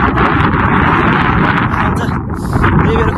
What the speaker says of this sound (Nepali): त्यही भएर खोलेको हावा एकदम बवाल छ।